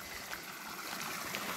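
River running through the beech forest of La Tejera Negra, a steady, distant wash of flowing water with faint trickles and no talking.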